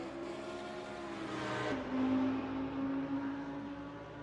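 Race cars at Twin Ring Motegi East circuit drone and rev in a mid-engine duel, a steady engine tone rising as a car draws nearer, heard at moderate distance without talk.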